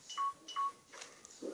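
A mobile phone gives two short, clear electronic beeps close by, followed by a softer chime; no voices.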